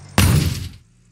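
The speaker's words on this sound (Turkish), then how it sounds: "bu çarpma sesi niye böyle ya?" A crash in Gold Rush: The Game, one abrupt loud shattering impact that bursts in, rings briefly and cuts off quickly.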